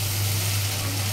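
Egg and potato curry cooks in a pan, a steady close sizzling hiss with a low hum beneath, brief and unbroken.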